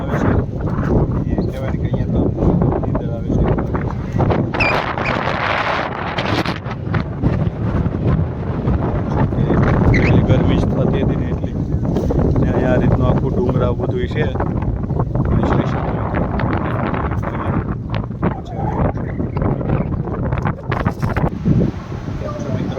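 Strong wind at Bhaguda buffets the microphone with a steady, loud rumble for the whole stretch, with speech partly drowned out beneath it.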